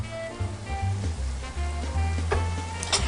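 Frozen peas and carrots sizzle and crackle loudly in a hot pan, a dense continuous fry with a few stirring scrapes, and no talking.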